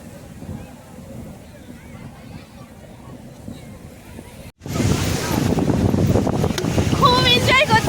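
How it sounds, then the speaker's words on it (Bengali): Strong wind and breaking surf at the sea beach in Digha: a muffled low rumble at first, then an abrupt jump to loud, steady wind buffeting and roaring waves for the rest. "খুব এনজয় করছি আর প্রচন্ড হাওয়া দিচ্ছে, ঢেউগুলো দেখো।"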